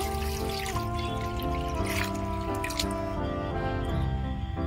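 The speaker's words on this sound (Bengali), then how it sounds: "জল দেব।" Water running and trickling into a pan (kadai) on a lit stove, set up for boiling cauliflower; a steady, continuous pour close by with faint dripping, no talking.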